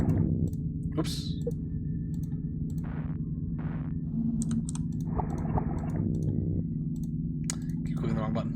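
Mouse and button clicks from play of Water Womb World sound as sparse, crisp ticks scattered over a steady game drone, with short breathy sounds between them.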